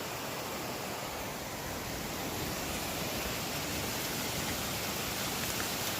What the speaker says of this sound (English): The creek is flowing right by the road.